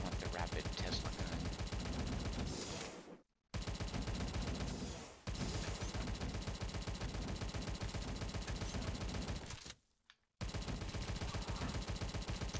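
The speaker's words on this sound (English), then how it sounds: "I prefer the Tommy gun to the shotgun." A Tommy gun in the video game Tesla vs Lovecraft fires in long, dense rapid-fire bursts. Short breaks between the bursts fall at about 3 and 10 seconds. It is loud and continuous, with no talk over it.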